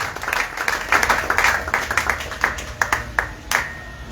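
A church congregation claps together at a sermon, a dense, steady round of applause that thins into sharper, more separate claps toward the end.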